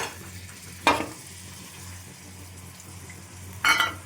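Onions and a full load of spices fry in a pan for mutton curry, giving a steady low sizzle broken by two louder scraping stirs, with no talking.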